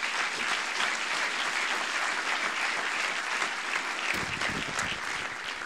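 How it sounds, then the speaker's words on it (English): A conference audience gives sustained applause welcoming Bellingcat founder Eliot Higgins, a thick, even wash of many hands clapping at a distance, continuous without talk, with a slight shift near the end. "Please give him a big applause,"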